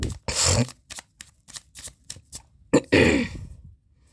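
Tarot cards get one last shuffle in a quiet room, heard as a quick series of crisp riffling bursts and slaps, close and fairly loud, with a longer rustle near the end and no talk.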